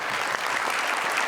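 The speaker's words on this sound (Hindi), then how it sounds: "इनके लिए बहुत सारी तालियां।" An audience in a talk-show studio claps together in a dense, even burst of applause, loud and close, lasting a brief moment with no clear speech over it.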